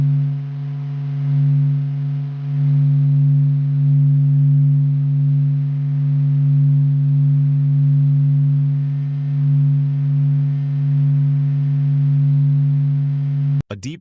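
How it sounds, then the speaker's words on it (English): Solar oscillation hum of the sun, sped up into audible range: a steady, deep drone of layered harmonic tones holding one chord, ending with a brief abrupt burst. "This is the sun's hum,"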